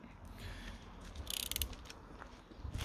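Torque wrench ratcheting a small 4mm headed bolt on a Calibre Beastnut mountain bike pivot bearing to 9 Newton metres, a short burst of quiet metallic clicks up close.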